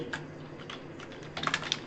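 Quick, irregular keystrokes on a computer keyboard as code is typed, close and fairly quiet, with a denser burst of louder clicks toward the end and no talking.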